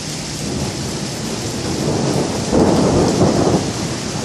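Thunderstorm in Wimberley with steady heavy rain hissing on surfaces and a low rumble of thunder that swells in the middle, no voices present.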